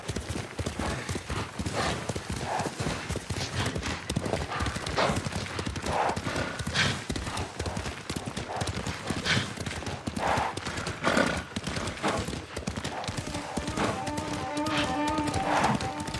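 Horses trot in the video game Ghost of Tsushima with steady, close clip-clop hoofbeats and an occasional whinny, over a faint ambient game soundscape.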